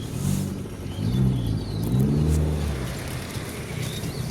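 A car engine rumbles steadily at low pitch, rising slightly as the clutch is slowly released in first gear and it takes up load, with a continuous hum throughout and no talking.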